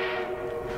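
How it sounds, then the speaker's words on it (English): Armored train arriving in the Battlefield 1 multiplayer video game, a steady sustained horn-like tone over dense rumbling mechanical noise, loud and continuous with no talking. "Our armored train has arrived."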